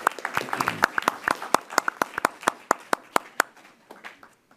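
Applause from a small group, starting as a dense burst of overlapping claps and thinning to scattered individual claps that fade out.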